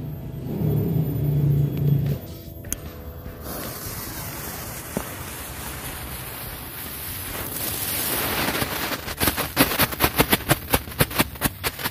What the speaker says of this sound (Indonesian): Selanjutnya kita nyalain mercon lighting flash TikTok